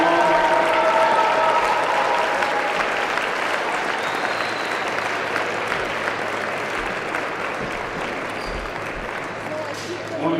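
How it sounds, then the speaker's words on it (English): Sustained crowd applause for a player after a long match at the Calgary National Bank Challenger tennis tournament, a steady broad wash of clapping that holds loud throughout and eases only slightly toward the end. "Can we get a round of applause for Max Kasnikowski?"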